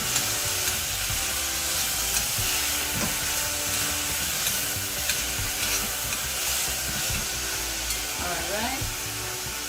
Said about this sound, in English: So just a little bit of brown sugar, that's about a tablespoon. I'm gonna stir again.